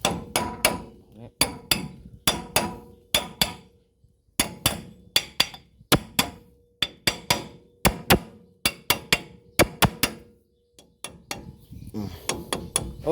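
A hammer drives a wheel bearing into an Isuzu front hub, with sharp metallic blows struck in quick bursts of three to five and brief pauses between groups, loud and close.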